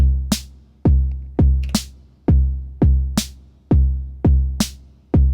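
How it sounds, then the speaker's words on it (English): Drum machine playing a sparse drum and bass pattern: deep booming kicks alternating with sharp snare hits, about ten evenly spaced strikes with decaying tails, loud and alone. "let's program some simple drum and bass type pattern between kick and snare"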